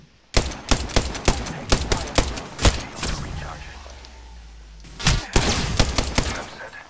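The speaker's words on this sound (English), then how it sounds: "Taking fire." Rapid bursts of gunfire from an Apex Legends match, sharp loud shots in quick irregular succession, then a pause and another flurry, with in-game voice lines faintly underneath.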